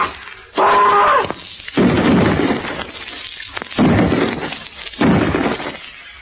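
Loud volleys of gunfire from a firing squad in an old-time radio horror drama, four heavy booming bursts spaced about a second apart, each with a long rumbling tail, close and dominant with no talk.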